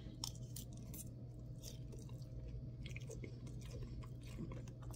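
Close, quiet chewing of a fry from Mr Fries, soft repeated crunchy bites and mouth sounds over a low steady background hum, with no talking.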